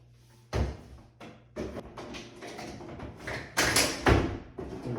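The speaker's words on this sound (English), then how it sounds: "I'm going to set the drawer box on the glides." A Hafele Blade Series bathroom vanity drawer box being set onto its glides, giving a series of close wooden thumps, taps and sliding knocks in irregular bursts, the last few louder than the first.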